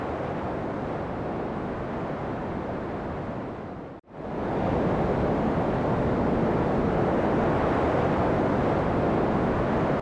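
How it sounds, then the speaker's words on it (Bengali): A cartoon storm effect: loud, continuous roaring wind and rushing floodwater of a swollen village river surge without pause, dipping briefly at one cut before resuming, with no voices. "বাতাস হু হু করে বইছে, আর নদীর জল বিপদ সীমা ছুঁয়ে ফেলেছে"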